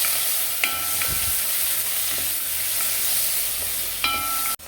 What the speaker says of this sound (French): Du coup, là, on continue à faire frire bien les oignons